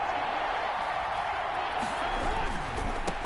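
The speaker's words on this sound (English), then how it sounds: "That just means this crowd's going to get even louder" Stadium crowd in a PlayStation 4 football video game, a steady broad roar of cheering fans held at a constant level throughout, with no clear individual voices standing out.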